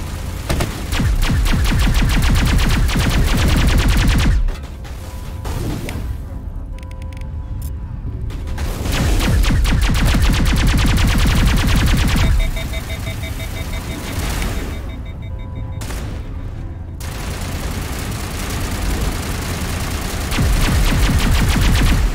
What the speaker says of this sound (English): I'm intrigued that she's using the assault rifle